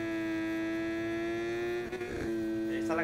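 Three-cylinder 675 Moto2 motorcycle engine with three exhausts in the racing game Ride 5, a steady droning hum held at constant pitch with a brief rough burst near the end.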